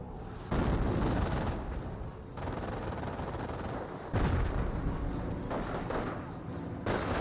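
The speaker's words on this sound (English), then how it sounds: "Mortar firing a barrage," A mortar barrage in Company of Heroes, with several heavy thumping impacts in succession followed by rumbling blasts at a moderate, somewhat distant volume.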